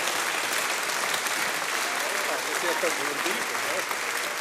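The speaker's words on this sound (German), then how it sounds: "Riesigen Applaus für unseren Dörlijäger da." A crowd at a folk music gathering claps steadily for a performer, a thick continuous wall of applause with faint voices mixed underneath.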